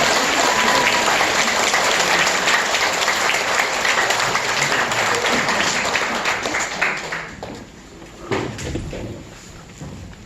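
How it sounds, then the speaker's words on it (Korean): A church congregation applauds a Catholic priest after a special lecture at a martyr's grave site, with dense, loud clapping that thins and fades toward the end, leaving a few scattered claps. "신부님 다시 이렇게 박수 드리고 시작하도록 하겠습니다"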